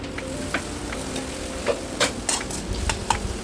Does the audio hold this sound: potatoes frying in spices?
yes